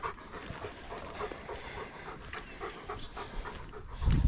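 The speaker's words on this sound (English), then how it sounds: "After some very disobedient dogs." Working sheepdogs pant steadily and close by during sheep handling, a continuous rough breathy rhythm with a louder thump near the end.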